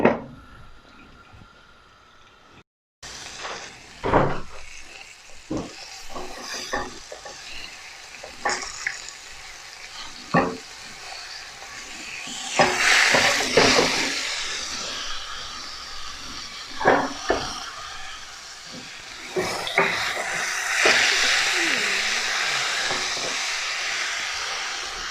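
A mutton shank leg cooks in a frying pan with garlic, sizzling and hissing steadily, broken by sharp clatters of a lid and utensils that swell into louder frying bursts.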